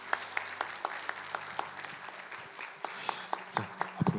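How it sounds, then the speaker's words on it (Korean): A church congregation at a Sunday worship service claps for a certificate presentation. The claps are fairly faint, spaced and uneven, with a brief denser burst near the end. "네, 큰 박수로 받으시기 바랍니다"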